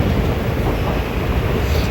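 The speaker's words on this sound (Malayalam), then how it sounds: "അങ്ങനെ ഒട്ടേറെ പുഴകളും കായലുകളും ഒക്കെ കടന്ന് അങ്ങനെ ഞങ്ങളുടെ ട്രെയിൻ പോയിക്കൊണ്ടിരിക്കുകയാണ്" A passenger train running on rails toward Alappuzha, heard as a loud, steady, broadband rumble from on board.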